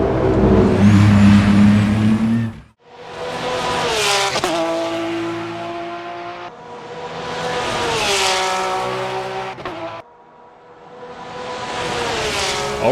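Porsche GT3 race car at Interlagos in Assetto Corsa, engine screaming loud and close through repeated upshifts, each gear climbing in pitch before a brief cut, with one sharp drop to quiet.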